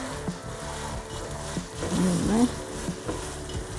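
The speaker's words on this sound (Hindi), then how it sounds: "ये ऑयल डाला मैंने और भूनेंगे हम" Chicken keema frying in oil in a pan, with a steady sizzle and occasional stirring scrapes close by.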